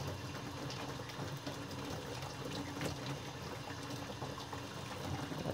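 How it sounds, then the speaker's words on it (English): Steady hum and rush of a nearby well pump running while hot water flows, a continuous mid-level mechanical drone mixed with watery noise, close and unbroken with no talking. "you're hearing the pump, because we're right next to the well pump, because I've got water flowing."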